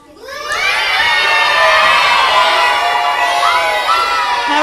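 Children in a group cheering for the blue team, voices swelling from quiet into a loud, sustained burst of shouts and high-pitched whoops that stays strong to the end.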